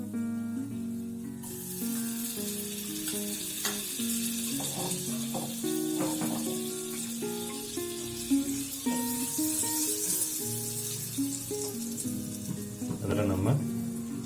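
Butter melts and sizzles in a pan while mutton curry is cooked, a soft, steady frying hiss with scattered utensil taps and scrapes, fairly quiet and close.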